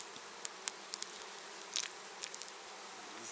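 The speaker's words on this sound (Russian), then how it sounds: "Я пчел встряхиваю." Honey bees buzz in a soft, steady hum as a beekeeper shakes them off a hive frame in spring, with a few sharp little clicks and taps scattered through it.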